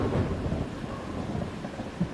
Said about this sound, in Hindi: हवा तेज चलने लगी और बादलों की गड़गड़ाहट ने सन्नाटे को तोड़ दिया। बारिश की पहली बूंदें गिरने लगी और देखते ही देखते ये तेज तूफान में बदल गई।